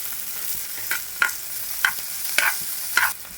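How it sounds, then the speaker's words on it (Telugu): Tomato pieces and onions fry for an Andhra chicken masala curry, a gentle sizzle punctuated by about five rhythmic spatula scrapes and clacks against the pan, close and clear with no talking. "టమాటా ముక్కలు కూడా వేసుకోవాలి."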